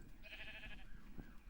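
A sheep in a Minecraft-style survival video game bleats once, a wavering, nasal call lasting about half a second over quiet background noise.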